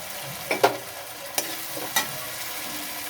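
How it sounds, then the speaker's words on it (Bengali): Ginger paste being stirred in a cooking pan, a low sizzle under several sharp scraping clacks of a spatula on the pan, spaced unevenly, no talking. "আদা বাটা দিয়ে এবার আমি ভালো করে নাড়াচাড়া করে নেব"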